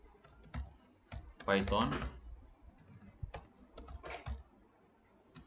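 Keys clatter on a computer keyboard while a command is typed at the Windows command line, short bursts of quiet clicks spread across the clip, with a person speaking briefly in the middle.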